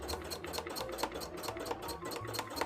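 An embroidery machine stitches steadily, giving a fast regular mechanical patter of needle strikes that runs throughout at a moderate, close level with no talk.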